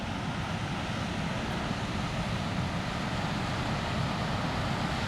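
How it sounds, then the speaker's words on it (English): A river on the Missinaibi runs just above a falls with a drop of about 12 feet, giving a steady, broad wash of rushing water that stays constant and fairly near, with no voices. "You can hear the river."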